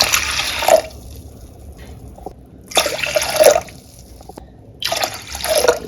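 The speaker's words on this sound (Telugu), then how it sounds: "ఇప్పుడు ఈ వాష్ చేసి పెట్టుకున్న దాంట్లో మనం వాటర్ పోసుకున్నాం." Water poured from a glass into a pressure cooker holding washed lentils for Nellore pappu pulusu, three short splashing pours with quiet pauses between them, close and fairly loud.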